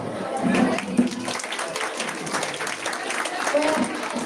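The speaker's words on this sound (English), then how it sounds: "Please give her a huge round of applause." Audience applause in a college hall in Patna, Bihar, after a student's speech: a broad, sustained wash of many hands clapping at moderate distance, with voices mixed in.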